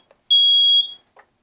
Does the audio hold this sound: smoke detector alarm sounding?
yes